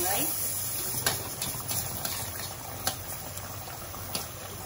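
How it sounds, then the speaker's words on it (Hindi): Karahi chicken cooks on a high flame in a kadhai, cooking down so its water dries off and the oil separates. A steady, close bubbling and sizzling fills the pan, with faint clicks scattered through it. "अब इसको हम हाई फ्लेम पर पकाते जाएंगे और ताकि इसका पानी खूब अच्छे से सूख जाए"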